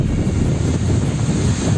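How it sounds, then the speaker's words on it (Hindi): Loud, continuous roaring of wind and churning surf from a cyclone-driven stormy sea in Mumbai, a dense rushing wash with no breaks or voices. "तूफान के आते ही समंदर में शोर के साथ लहरें उठने लगी।"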